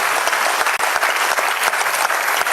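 Loud, continuous applause from a crowd at a Hindi poetry recital, thick clapping that stays dense and even across the whole stretch.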